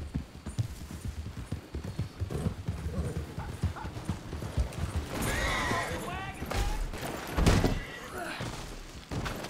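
Hooves clip-clop at a slow walk in Red Dead Redemption 2, mixed with thuds and game effects while people talk over it.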